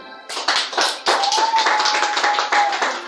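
A church congregation applauds with steady, fairly close clapping that continues for a few seconds, with a faint tone held underneath.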